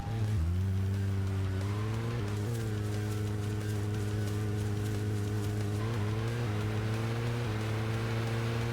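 A car engine in Deadly Premonition drones steadily at low revs, a continuous hum with slight pitch rises as the car accelerates and shifts, heard alone without talk.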